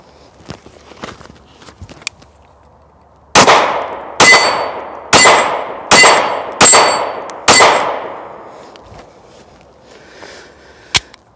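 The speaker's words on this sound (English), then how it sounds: "let's try it while firing the gun." Six sharp handgun shots ring out in an uneven series over about five seconds, each loud report trailing off in a short echo, with quiet handling noises and clicks before and after.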